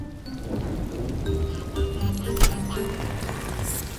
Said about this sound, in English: With this rain, we'll need eyes in the sky to find Baby Truck.